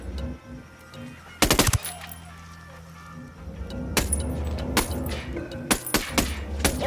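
Gunfire in the video game Ghost Recon Wildlands: a sharp rapid burst of shots, then several loud single cracks spaced a second or so apart, over a steady low engine-like rumble.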